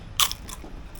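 Deep-fried wonton sheets from a tom yum noodle stall are bitten into with one sharp, loud crunch near the mic, followed by a few softer chewing crackles, with no talking.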